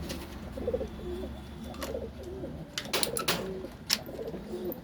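Pigeons cooing inside a loft, close by, with repeated soft rolling coos and a few sharp wing flutters or clicks between them, and no talk.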